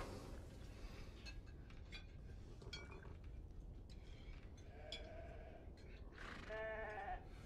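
Churro sheep bleat in the video game Beyond Two Souls, a few quiet calls over steady low ambient noise with faint clinks, the last bleat louder and drawn out.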